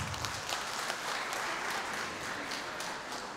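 A congregation at an evening worship service claps together in a continuous, moderately loud wash of applause, steady for a few seconds.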